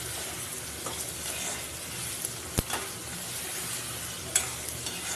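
A spatula scrapes and clacks while jackfruit and shrimp curry is stirred in a hot pan, with a soft frying sizzle underneath and a few sharp knocks against the pan, close and quiet, with no talking.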